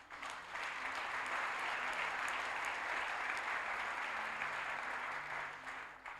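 A church congregation claps for God in a steady, full round of applause. The dense crowd clapping swells in, holds evenly for several seconds, then eases off slightly near the end, with no speech over it.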